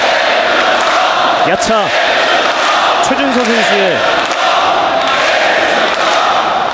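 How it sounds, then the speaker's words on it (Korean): Arena crowd roaring and cheering at a Black Combat MMA fight event after a bout, a dense steady wash of many voices throughout, with a voice speaking over it. "인터뷰 함성 소리 들리십니까"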